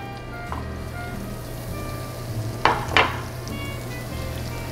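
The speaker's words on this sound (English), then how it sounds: "I'm gonna go ahead and fry our shrimp." Shrimp deep frying in hot oil at 350 degrees, a steady close sizzle and bubbling with a couple of brief louder crackling bursts and no talk.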